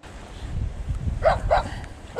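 A dog by a fishing spot gives three short, sharp barks or yips toward the end over low rumbling background noise.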